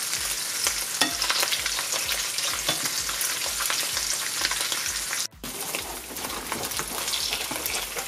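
Fish fries in a hot pan for Salvadoran fish patties, a dense steady sizzle with crackling spatters throughout, briefly cut off once midway before resuming at full strength.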